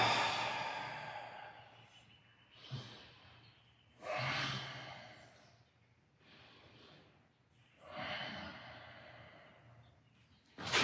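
During a runner's stretching exercise, a person takes several slow, deep breaths close to the mic: long airy inhales and sighing exhales in an uneven rhythm, with quiet pauses between them.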